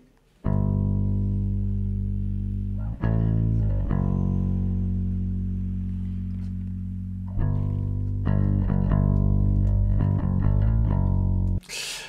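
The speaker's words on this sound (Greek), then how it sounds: "Το ένα μπάσο το έγραψα με ηλεκτρικό μπάσο και ακούγεται κάπως έτσι" Electric bass guitar recording heard alone, with deep sustained notes and a few distinct phrases separated by short breaks, loud and close.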